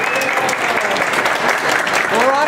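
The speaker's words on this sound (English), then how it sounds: "Everybody give her a round of applause." An audience gives a round of applause for Veronica Sotomayor at an Ektelon racquetball demo in Stockton, a steady full wash of many clapping hands with a voice briefly heard over it.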